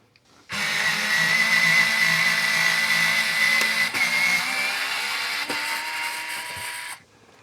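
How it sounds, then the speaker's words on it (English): A Fanttik NEX S1 Pro electric screwdriver runs on its third power setting. Its steady, loud motor whine lasts about six seconds without a break, then stops. "Try to hold the screwdriver a little firmer now."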